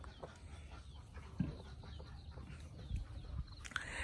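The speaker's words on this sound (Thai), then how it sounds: "ไก่แจกก็ไข่แล้วนะคะ" Bantam chickens cluck and call on a Thai farm in the morning, scattered soft clucks over steady outdoor background noise, with one sharper call near the end.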